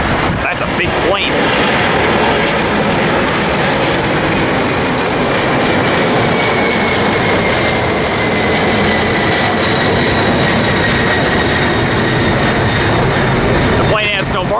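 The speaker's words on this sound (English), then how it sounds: "we have a plane taking off here" A big jet airliner roars during takeoff at LAX, a loud continuous engine rumble and whine that holds steady throughout, with wind noise on the microphone.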